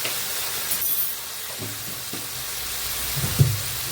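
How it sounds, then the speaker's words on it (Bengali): Cauliflower pieces, pitha ingredients with a little sugar added, frying in a covered pan over low heat: a soft, steady sizzle with a few faint clicks and taps, moderately quiet and unaccompanied by talk. "আমি এইভাবে ঢাকা দিয়ে এটা ভাজি ভাজি করে নেব"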